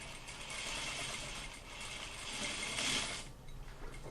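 A sewing machine runs quietly as it back-stitches and then sews along a sleeve hem, giving a soft, steady mechanical whir that swells slightly near the end before easing off, heard alone.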